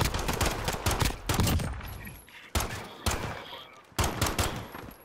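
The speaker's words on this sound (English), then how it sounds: "So, like, I'm just shooting." Rapid bursts of gunfire in the Call of Duty Modern Warfare video game come in loud clusters, broken by short gaps and sharp fresh volleys.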